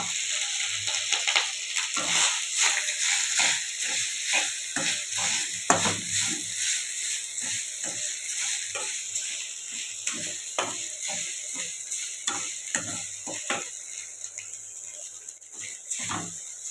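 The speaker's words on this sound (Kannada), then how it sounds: "ನಂತರ ಇದಕ್ಕೆ ರೈಸ್ ಸೇರಿಸ್ತಾ ಇದ್ದೀನಿ." Rice is added to a pan for jeera rice and stirred, making a steady soft sizzle under repeated sharp scrapes and clicks of a spoon against the pan, close and without talking.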